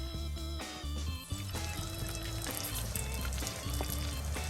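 Octopus pieces coated in potato starch deep-fry in hot oil, a steady dense sizzle running through the whole stretch beneath a tuneful musical backing.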